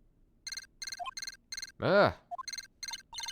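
A transceiver in Phoenix Wright: Ace Attorney – Justice for All gives repeated short electronic beeps in quick bursts, close and clear, broken briefly by a short groaning voice.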